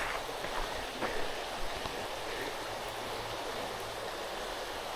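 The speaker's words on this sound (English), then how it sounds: "The big, beautiful waterfalls." Waterfall on the Montour Trail, a faint, steady hiss of falling water heard from a distance, continuous and even with a few soft bumps and no voices.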